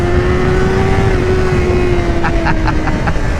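A Honda CBR600RR sport motorcycle pulls hard in first and then second gear, its engine giving a steady high whine close to the microphone as the revs climb past 7,000, with wind rush throughout.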